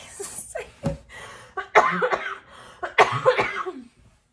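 A few harsh coughs close to the mic, starting with small throat sounds and building into two louder bursts of coughing.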